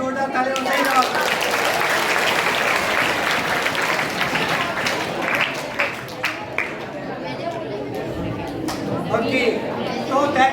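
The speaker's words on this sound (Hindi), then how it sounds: "ताली और सही जवाब।" A seminar audience at a Memory King Naveen Agarwal session applauds a correct answer, with dense, sustained clapping and crowd chatter filling the room and sharper individual claps standing out near the end.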